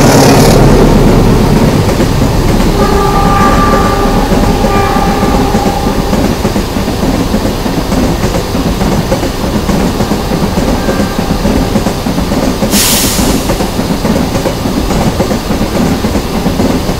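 A train arrives at a station platform at close range, a constant rumble with faint clacking and a short high squeal partway through.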